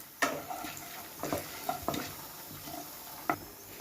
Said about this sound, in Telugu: చూడండి, పోపు వేగిపోయింది.